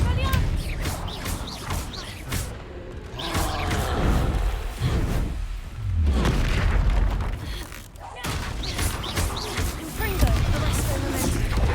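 The Confringo fire spell exploding in Hogwarts Legacy: several deep booming blasts and crashing impacts in quick succession, loud and close, with a voice talking over the action.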